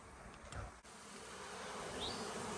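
Honey bees from a package colony hum around an open hive, forming a dense, continuous buzzing drone that stays steady and close throughout, with a brief soft bump near the start.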